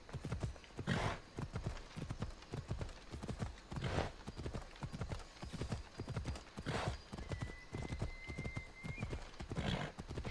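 Hooves clip-clop in a quick, steady rhythm as a horse is ridden in the video game Assassin's Creed Odyssey, with a few louder stamping accents and a faint whinny-like tone.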